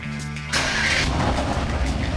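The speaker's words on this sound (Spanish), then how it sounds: "Ahora voy a encender el carro. No se asusten, ruge bastante este motor." A Mercedes-Benz GLC 63 S AMG engine cranks and fires. It catches abruptly into a loud, full roar close by and holds a strong, steady idle with no talking.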